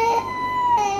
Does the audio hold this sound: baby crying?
yes